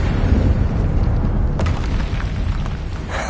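A Confringo fire spell explodes in the game Hogwarts Legacy, a loud, sustained booming blast with a sharp crack partway through, filling the whole moment with rumbling low end.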